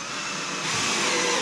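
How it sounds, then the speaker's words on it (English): A power drill driving a 3-inch screw into a 2x4 handle, a brief steady whirring whine that rises slightly in loudness. "I'm gonna put 4 3-inch screws into this."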